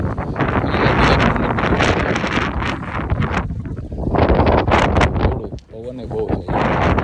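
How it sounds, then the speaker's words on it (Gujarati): Strong gusts buffet the microphone in a roaring, rumbling blast on a wide open ground used for driving-licence practice, nearly continuous with a brief lull midway and faint voices underneath. "પવન બહુ છે"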